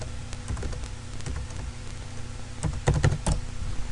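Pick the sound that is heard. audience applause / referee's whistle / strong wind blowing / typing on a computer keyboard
typing on a computer keyboard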